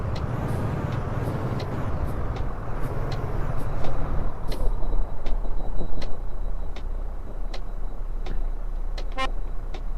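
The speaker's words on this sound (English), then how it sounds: "That's a nice horn." Truck horn in Euro Truck Simulator 2, heard amid steady engine rumble and road noise, with a series of short horn toots and a longer honk near the end.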